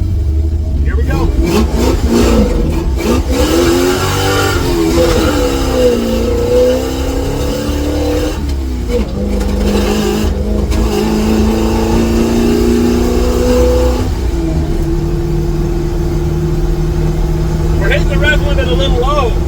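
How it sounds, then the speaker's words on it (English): A 1955 GMC truck's engine revs hard while driving, climbing and falling in pitch up toward an early rev limit around 4,200, loud and close throughout. Someone talks over the engine noise. "it's hitting the rev limit at like 42."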